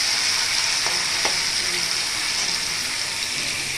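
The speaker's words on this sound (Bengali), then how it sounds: "এর দিকে তো ভাজা হতে থাক" Chicken pakora sizzles steadily as it deep fries in hot oil, a close, even hiss with a couple of faint pops and crackles.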